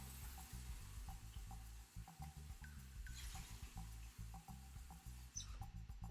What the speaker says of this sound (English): I rinse the coconut off